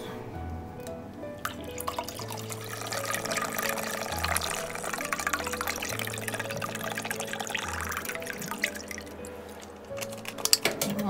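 A liter of coconut water pours in a steady liquid stream for several seconds, with splashing and dripping and a few clinks at the end, and no one speaking.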